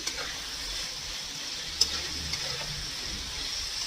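Radish greens seasoned with turmeric and salt fry in a pan with a soft continuous sizzle, broken by a couple of faint spoon taps and one brief sharper scrape as they are mixed.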